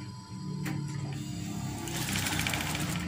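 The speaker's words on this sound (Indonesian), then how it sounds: "Kemudian jahit sewing." A sewing machine stitches curtain fabric with a fast, steady mechanical chatter, close and continuous throughout, growing slightly busier toward the end.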